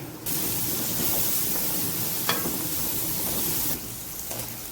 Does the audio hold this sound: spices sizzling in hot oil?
yes